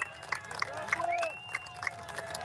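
Rally crowd clapping and cheering after a speech at an outdoor political gathering in Washington, DC, a steady wash of applause with scattered shouts and voices in the mix.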